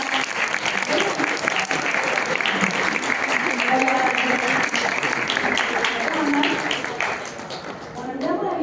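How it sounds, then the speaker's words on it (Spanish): Audience applause at a talk with a Mexican singer in the Espacio Iberia venue, sustained dense clapping from a sizeable crowd with some voices mixed in, fading toward the end. "aplauso, por favor."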